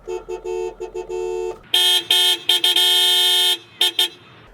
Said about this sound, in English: So how is the horn of the Toyota Innova HyCross?